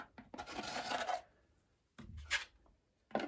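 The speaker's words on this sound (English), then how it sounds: "So again, on with the small trowel and then working off to the big trowel." A small plastering trowel rasps and scrapes filler across drywall plasterboard in short, close strokes, two main passes separated by pauses, quiet and alone without talk.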